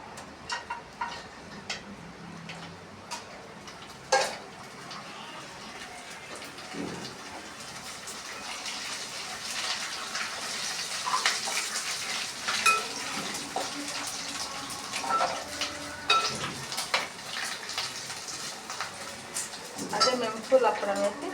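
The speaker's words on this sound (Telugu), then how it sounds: "ఇప్పుడైతే అప్పడాలు అయితే ఫ్రై చేస్తున్నా" Papad pieces frying in a little oil in a pan give a continuous crackling sizzle, with scattered sharp pops and hisses building toward the end, and some talking at times.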